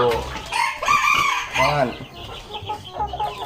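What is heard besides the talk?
chickens clucking and crowing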